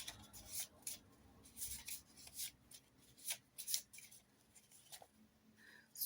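Prompt cards are shuffled by hand in a quiet room, making soft, close, papery riffles and rubs in irregular bursts, with no talking.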